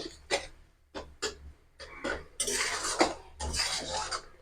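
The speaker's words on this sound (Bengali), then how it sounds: "চিনিটা ভালো করে মিশিয়ে নেবো" Sugar being stirred into pineapple jelly made from homegrown fruit in a pan, with a spoon scraping and clinking against the metal in irregular strokes, close and fairly loud, no talking.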